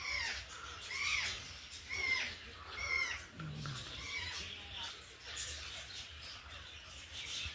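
Parrots squawk in an enclosure at a Vizag zoo park, harsh calls coming in repeated bursts every second or so at moderate distance, with a faint background murmur.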